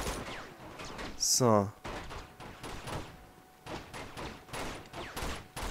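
M4 rifle fire in the video game Uncharted 2 crackles in repeated bursts amid the game's action and other effects, with someone commenting over it.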